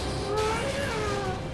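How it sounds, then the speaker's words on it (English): A cat meows in Metal Gear Solid V: Ground Zeroes, a drawn-out, wavering mew heard clearly over faint game ambience. "And he meows."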